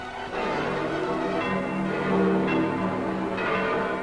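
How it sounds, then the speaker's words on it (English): Large bells ring continuously, their overlapping tones blending into a dense, sustained clangor with no voices. "the Vatican bells of St. Peter's ring in peace"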